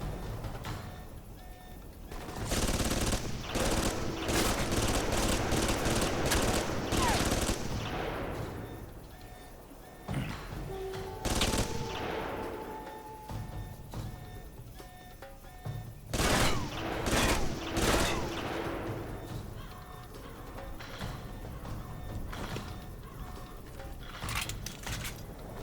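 Gunfire in the video game Alpha Protocol comes in several heavy automatic bursts, loud and close, with the volleys separated by short pauses and some shots trailing off into fading echoes.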